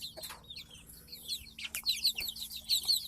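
Chickens and young roosters cluck and chirp nearby in a farmyard, a busy overlapping chatter of short calls with no talking.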